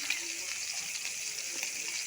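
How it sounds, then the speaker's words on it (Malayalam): Small prawns frying in a pan of oil, a steady soft sizzle with fine crackling held at an even level throughout, close by and alone. "അതൊക്കെ അവിടെ ഇരുന്ന് ഫ്രൈ ആയിക്കൊണ്ടിരിക്കുകയാണ്."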